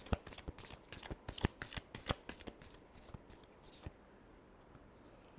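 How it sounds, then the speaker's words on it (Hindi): Tarot cards riffled and shuffled by hand up close, a quick run of crisp, fluttering slaps and snaps in uneven bursts that stop abruptly near the end. "last shuffle"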